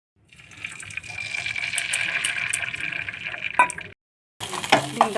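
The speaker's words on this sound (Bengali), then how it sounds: "ডিমটা ভাজা হয়ে এসছে।" Oil hisses and sizzles steadily as an egg fries in a little oil for chow mein with carrot, capsicum and onion greens. The sizzle is close, breaks off briefly, then returns with some clatter.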